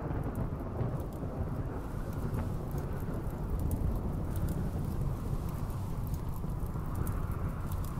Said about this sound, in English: A dry thunderstorm, that means it's gonna try to burn down a whole village.